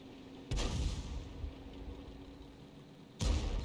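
SU-14-2 self-propelled artillery fires in the tank battle game World of Tanks, two heavy booming shots about three seconds apart, each followed by a rumbling decay.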